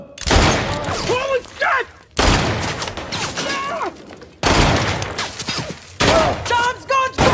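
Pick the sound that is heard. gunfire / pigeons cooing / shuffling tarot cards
gunfire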